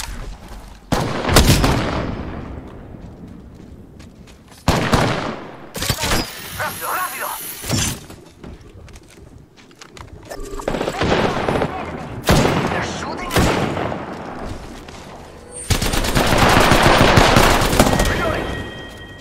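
Loud bursts of automatic gunfire, sharp single shots and booming explosions from an Apex Legends firefight come in uneven waves, with a player talking over parts of the action.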